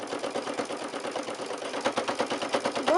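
Sewing machine running steadily while top stitching around the curve of a quilted pot holder, a fast, even mechanical chatter of the needle that holds close and fairly loud for the whole stretch, with no voice over it.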